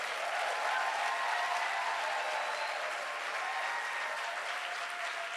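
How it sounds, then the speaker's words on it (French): A church congregation claps steadily to acclaim the king, dense sustained applause filling the room at an even level throughout, with no voices standing out. "Est-ce que tu peux bien acclamer le roi?"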